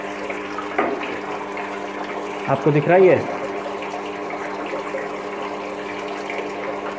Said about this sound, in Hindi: ये देखिए पानी आ रहा है अपना, पानी आने लग गया इसमें।